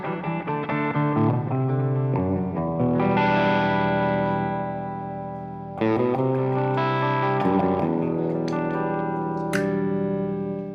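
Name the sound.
guitar with distortion effect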